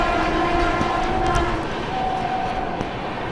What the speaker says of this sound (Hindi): भोपाल जंक्शन एक बहुत ही बड़ा स्टेशन है और हमारी ट्रेन इसे भी स्किप कर रही है।